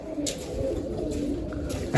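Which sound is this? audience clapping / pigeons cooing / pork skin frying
pigeons cooing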